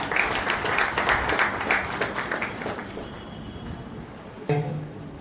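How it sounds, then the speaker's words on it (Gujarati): An audience at a birthday celebration for a doctor at a senior citizens' forum claps together, a dense burst of applause that thins and fades after about three seconds, followed by a brief stray knock. "આપણે સૌ તેમને તાળીઓથી વધાવી લઈશું."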